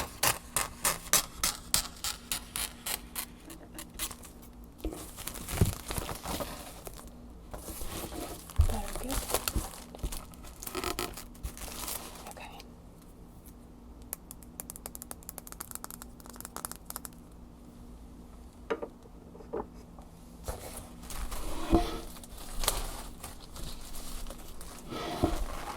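Scissors snip through crinkly material for a DIY craft project, a close, quiet series of irregular cuts mixed with crinkling and handling noises, with soft spoken talk in places.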